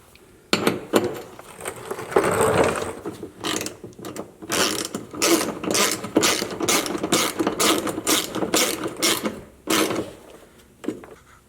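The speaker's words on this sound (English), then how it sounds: "get the 10mm bolts back into the plastic bumper and tighten those up" A ratchet wrench tightening 10mm bolts into a plastic Jeep bumper, loud close rapid clicking in repeated bursts of strokes with short pauses between them.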